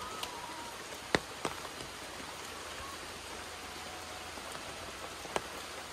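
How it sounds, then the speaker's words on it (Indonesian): Rain falls steadily over a village, a soft even hiss with a few sharp drip taps standing out, no talking. "Hujan-hujanan di sini, sahabat."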